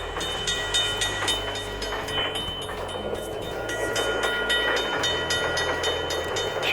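A train in a Ukrainian village simulator video game rumbles past steadily at moderate volume, a continuous rolling drone with faint rhythmic clatter and no voices.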